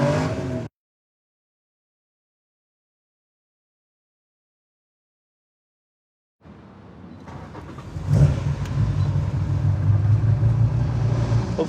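A 1972 Nissan Skyline on a street road test: a brief burst of engine noise, a long silence, then the engine returns, swelling into a loud, steady rumble.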